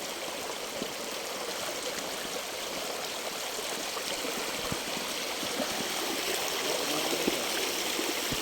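Continuous rushing and trickling of water flowing steadily through a channel, a broad hiss with small gurgles and splashes, close by and without any talking.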